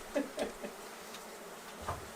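Bees buzz close by during removal of a beehive from a wall, a steady insect hum with a few louder passes as they fly near, no talking.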